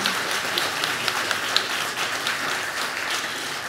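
An audience at a gala inauguration concert applauds steadily, dense clapping close and loud from start to finish.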